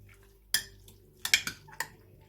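Lemon and lime zest and juice being stirred through food in a bowl, heard as a few sharp utensil clinks and scrapes, close and quiet, in short separate bursts.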